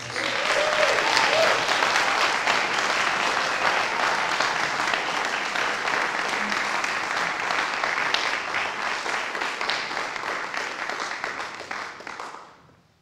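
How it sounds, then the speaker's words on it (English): An audience applauds a wind quintet after a concert performance, sustained dense clapping at full strength that holds steady before quickly fading out at the end. "Let's give them another round of applause."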